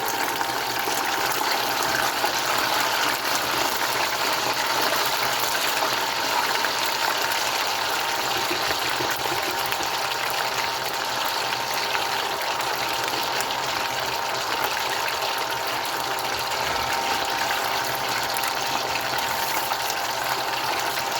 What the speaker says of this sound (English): And now we're going to go in for that second fry to get them all really nice and crispy.